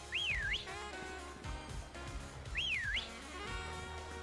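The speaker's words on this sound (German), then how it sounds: "Ich muss pfeifen." Whistling in the video game Pokemon Sword on Switch: two clear rising-and-falling whistled phrases about two seconds apart over steady game music.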